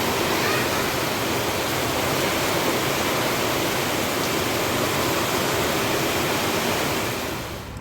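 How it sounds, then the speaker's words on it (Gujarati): Heavy rain pouring down in a sudden downpour, a dense, loud, unbroken hiss and roar that stays even throughout and fades slightly at the very end. "જ્યાં સૂઈને ઉઠ્યા ત્યાં તો ધોધમાર છે એ વરસાદ ચાલુ થઈ ગયો હતો"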